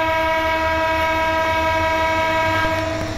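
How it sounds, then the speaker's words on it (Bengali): A train horn in a Bangladesh train simulator game blares loud and continuous with rolling rail rumble underneath as the express train starts off, and no one speaks. "সো একটা হর্নের সাথে আমরা স্টার্ট করে ফেলি।"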